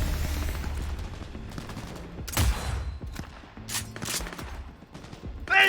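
Gunfire in the video game Cyberpunk 2077, with shots fired at a rider on a motorbike; a few loud bursts break through a constant rumbling game backdrop.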